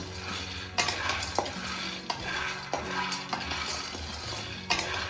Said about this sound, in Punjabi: ਹੁਣ ਆਪਾਂ ਪਾਵਾਂਗੇ ਮੂੰਗਫਲੀ ਇਹਨੂੰ ਹਲਕੇ ਹਲਕੇ ਹੱਥਾਂ ਨਾਲ ਹਿਲਾਈ ਜਾਣਾ ਇਹਨੂੰ ਤਾਂ ਕਿ ਜਲੇ ਨਾ